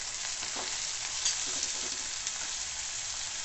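Two medium-size tomatoes, finely chopped, frying in a pan with browned onions, a steady close sizzle broken by a few soft stirring scrapes, with no voices.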